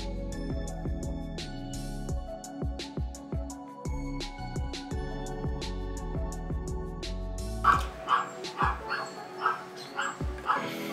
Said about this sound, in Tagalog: Pagpasensyahan nyo na yung mga aso na nasa background.